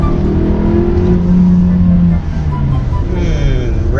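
A 2018 VW Tiguan S 4Motion engine drones loud and close, its revs hanging and only slowly falling away instead of dropping back quickly, with cabin voices talking over the engine noise.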